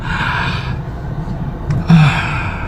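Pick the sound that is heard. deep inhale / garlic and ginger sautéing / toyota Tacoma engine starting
deep inhale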